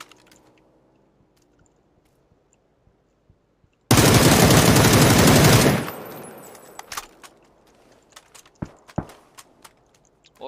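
Rapid video-game gunfire erupts in a dense, loud burst of about two seconds, then gives way to scattered clicks and short sharp shots at a lower level.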